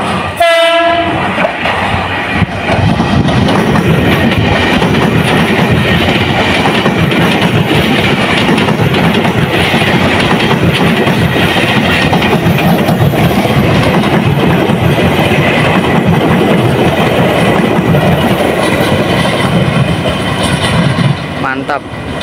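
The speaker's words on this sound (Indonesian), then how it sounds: "kereta lagi nih kawan-kawan melintas" A commuter train rolls loudly and close over a rail switch at Depok, Indonesia, a continuous heavy rumble and clatter of wheels that lasts almost the whole stretch, with a horn-like tone at the start.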